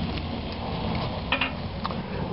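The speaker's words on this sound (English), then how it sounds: "Hot, you can hear the sizzling" Chicken sizzles over a backyard firewood fire, a steady crackling fry hiss with scattered sharp pops and ticks, close and moderately loud with no talking.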